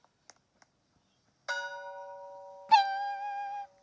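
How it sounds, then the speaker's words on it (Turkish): In a ship-sinking survival video game, two clear bell strikes ring out, the second louder and wavering as it sustains, after a few faint clicks in near silence. "Aa çan var. Çanı tıklatabiliyor mu?"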